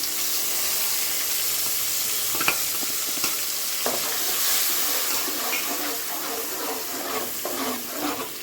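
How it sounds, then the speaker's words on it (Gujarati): Tomato gravy frying with onions in a pan for Gujarati chana shaak, giving a loud, continuous sizzle with occasional stirring scrapes and clicks, alone without speech. "આપણે તેમાં ટમેટાની ગ્રેવી ઉમેરી"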